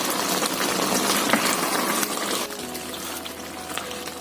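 Chicken with onion and mustard simmering in a pot, a dense bubbling and crackling simmer that fills the whole stretch, close and steady with scattered pops.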